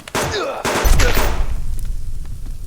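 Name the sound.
shotgun firing in a video game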